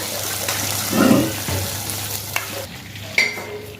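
Ingredients for Muslim wedding-style phirni fry in ghee while being stirred, giving a close sizzle with scraping stirs and a few clinks from the pan.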